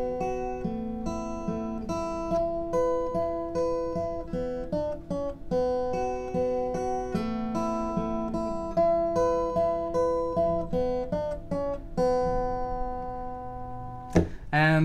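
Acoustic guitar plays the opening riff of a song, a bright plucked melody of repeating notes over ringing strings, heard up close and alone, ending with a quick strum.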